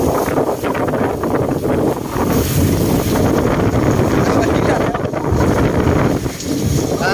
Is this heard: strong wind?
yes